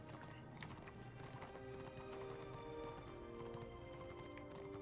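Horse mount hooves clip-clop steadily through Guild Wars 2, a continuous patter of footfalls blended with game music and ambient layers, moderately loud and without pause.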